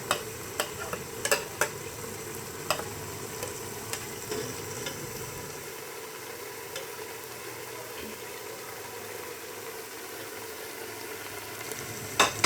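Chicken pieces added to a pot of spinach cooking for palak gosht, with steady low frying sizzle, stirring and a few sharp clicks of a spoon against the pot, close and moderately faint, no talking.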